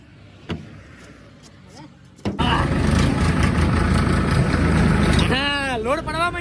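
After a quiet stretch, a tractor engine at a block factory rumbles in with a steady, close idle while blocks are loaded, with voices talking over it toward the end.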